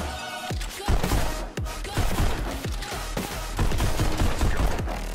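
Enemy gunfire in the Pistol Whip VR game rattles out in rapid, loud bursts of sharp shots, close and dense, forming an almost continuous fusillade with no talk over it.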